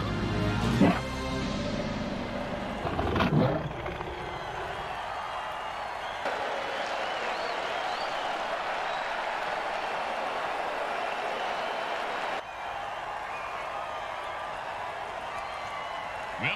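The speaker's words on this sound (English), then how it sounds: "Listen to this crowd." Stadium crowd roaring after a touchdown at an MFL football game, Motor City Maniacs at Grim Bay Attackers, a broad steady wash of cheering lasting the whole stretch, with a commentator's voice briefly rising over it near the start.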